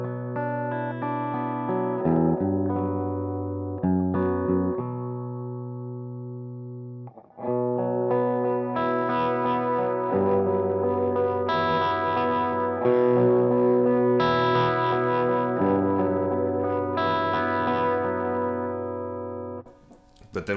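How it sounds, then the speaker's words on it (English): Electric guitar with a humbucker pickup played through a Fat Foot Thallium 81 distortion pedal, picked lightly into sustained, fairly clean chords and notes with mild grit, ringing steadily and up close. "Let's switch it over to a humbucker and you'll be able to see that we can still pick lightly and still get it fairly clean."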